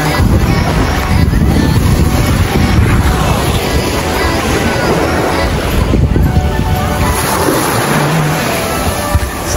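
Surf rolls steadily onto a white sand beach of clear water ringed by mountains, a constant broadband wash with wind buffeting the microphone and no clear separate wave breaks.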